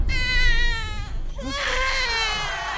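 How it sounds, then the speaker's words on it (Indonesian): A newborn baby cries in loud, wavering wails, a sustained sob that breaks off and then resumes in a rising, strained cry. "Mereka terlihat bahagia mendengar suara tangisan bayi."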